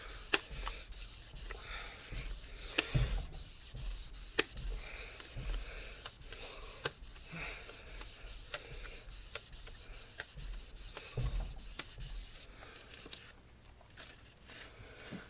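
Abrasive paper sands the head of a restored 1926 DL&W 130 RE rail in fast, even back-and-forth strokes, a close, steady rasping rhythm that thins out toward the end.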